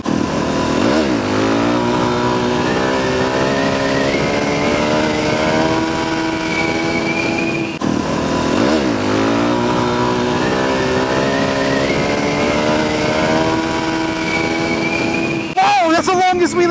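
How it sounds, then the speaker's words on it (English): A 2015 Suzuki DRZ400SM motorcycle revs hard and holds a steady, loud engine note through a long wheelie, easing off and climbing again partway through, with a short burst of wind or handling noise near the end. "That's the longest wheelie I've ever pulled."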